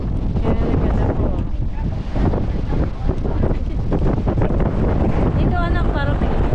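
Strong wind buffets the microphone on Mount Brigino in Bulacan, a steady loud roar running throughout while people talk over it.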